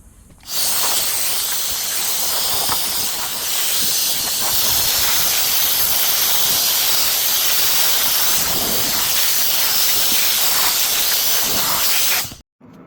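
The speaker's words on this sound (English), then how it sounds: "so I'm gonna blow on top of the fuel pump to take off all the dust and debris" An air blower blasts dust and debris off the top of the fuel pump on a 2019 Hyundai Sonata, producing a loud steady hiss that starts abruptly, holds for about twelve seconds and cuts off sharply.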